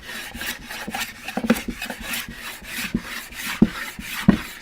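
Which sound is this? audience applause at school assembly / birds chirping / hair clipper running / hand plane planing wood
hand plane planing wood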